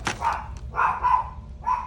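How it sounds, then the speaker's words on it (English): A Chihuahua gives several high, muffled yaps in an uneven sequence, heard from a short distance with no talking. "my little chihuahua is barking"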